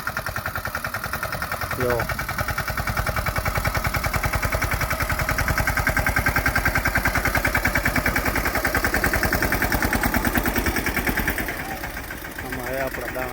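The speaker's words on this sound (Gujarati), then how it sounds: "અહીંયા આપણું ટ્રેક્ટર હાલે છે." A tractor engine chugs steadily at close range in a peanut field during sowing, a rhythmic mid-pitched idle that dips slightly near the end, while a person speaks briefly over it.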